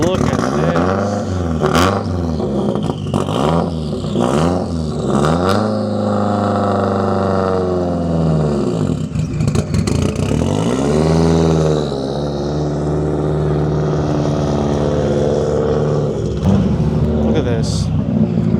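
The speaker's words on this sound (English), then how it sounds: "This is a literal race car, straight out of Forza, but this actually sounds incredibly nutty." A race car at a VW, Audi and Porsche meet revs hard in loud, close bursts, the engine climbing and dropping several times before settling into a steady, throaty idle, with a voice talking over it.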